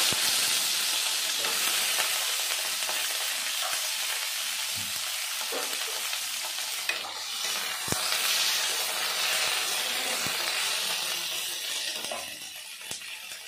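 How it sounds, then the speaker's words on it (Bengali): Cut flat beans frying in a pan, a steady dense sizzle and hiss running throughout with occasional stirring clicks, close and fairly loud, no voices. "এবার আমি সিমগুলো ভেজে নেব, কেটে ধুয়ে রাখা সিমগুলো।"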